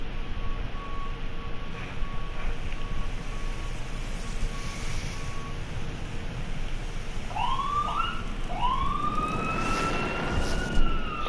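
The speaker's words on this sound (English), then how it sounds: "Stupid ambulance" Wailing ambulance siren inside the video game Doom, a steady warbling tone in the early seconds followed by louder rising and falling sweeps near the end, over constant game background noise.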